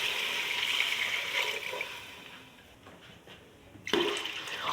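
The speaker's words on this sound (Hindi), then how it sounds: "अभी पानी ऐड करती हूँ।" Water is poured into fried whole green moong lentils in a pressure cooker, a steady close splashing gush that thins out midway and then surges again near the end.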